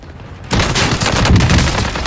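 Shotgun fire in the Warzone video game: a sudden loud blast, then dense, sustained gunfire and booming impacts that continue without a break to the end, with no talk over it.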